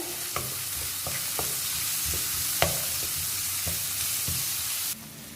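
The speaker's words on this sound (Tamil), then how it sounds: "இந்த ஆனியன் வந்து நம்ம நல்லா கிளாஸி எஃபெக்ட் வர வரைக்கும் நம்ம வறுத்துக்கலாம்." Onions fry with salt in a pan, a steady close sizzle broken by scraping stir strokes and light clicks of a spoon against the pan, with the sizzle quietening in the final moment.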